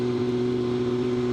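Steady rumble of slow-moving highway traffic heard from a motorcycle, a continuous low engine drone with no distinct passes.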